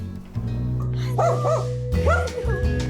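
A dog inside a neighbor's apartment barks at a newcomer entering its space, giving two short, close bursts of yelping barks over a steady low indoor hum.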